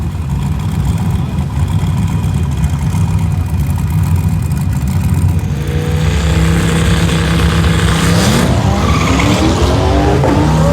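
A street car at a Street Car Takeover drag racing event in Atlanta, on track, with loud continuous engine roar, a rising rev sweep toward the end and a tire squeal or skid, no talking.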